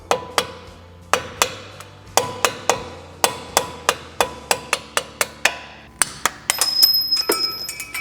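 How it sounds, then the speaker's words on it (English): Sharp metallic ball peen hammer taps on a punch ring out one after another while servicing Porsche 996 rear brakes, about twenty strikes in an uneven rhythm, close and loud, ending with a scrape and clatter. "just a small torque screwdriver and a ball peen hammer, and we're going to tap this through."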